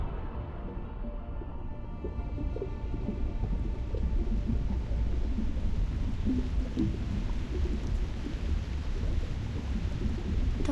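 Thunderstorm in the video game Reverse: 1999, with a dense, continuous roar of heavy rain and low rumbling thunder that stays steady and loud throughout, with no voices.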